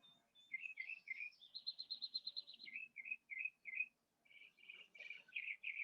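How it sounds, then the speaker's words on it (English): Birds sing faintly outdoors, a single bird repeating quick chirping phrases and a brief fast trill, rhythmic and fairly distant over a quiet background. "I know there's birds here"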